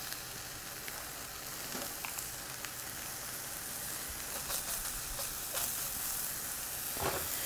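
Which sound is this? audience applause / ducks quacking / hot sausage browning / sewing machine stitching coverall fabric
hot sausage browning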